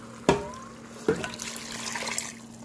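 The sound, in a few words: water poured into pot of cooking greens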